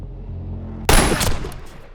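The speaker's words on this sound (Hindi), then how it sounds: "नशे और पागलपन की उस धुंध में अचानक जब गोली चली" A single loud gunshot in a Hindi drama narration, a sharp sudden blast after a low droning hum, followed by a decaying echo and crackling tail.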